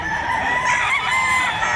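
A rooster at a Saturday fowl market behind SM City Lipa, Batangas, crows loudly and close, one sustained call with no talk over it.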